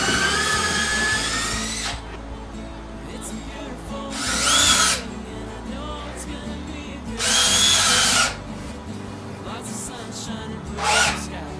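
A power drill bores into a wooden log in three loud bursts, with quieter handling sounds and faint movement between them.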